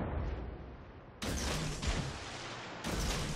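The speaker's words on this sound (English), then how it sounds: "I'm going to close the distance with that Montana and fire some more torpedoes into them" Torpedoes launched from a destroyer in World of Warships, dull thumping launch bursts over a low rumbling background, two sharp onsets spaced about a second and a half apart.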